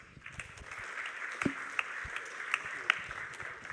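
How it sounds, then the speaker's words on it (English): Conference audience applauding a speaker, a fairly faint, steady patter of many hands with a few sharper individual claps standing out. "So please give Marek a big round of applause"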